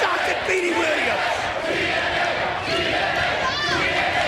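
A standing-room-only wrestling crowd at TNA Final Resolution 2005 roars and chants continuously, a dense wash of cheering voices filling the arena with a few louder cries rising above the din.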